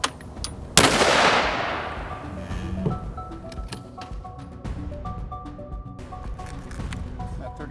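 A single sharp, loud rifle shot of a 7.62x63 APM2 armor-piercing round striking a Level IV armor plate, followed by a decaying ring and scattered clinks and faint rustling at the range.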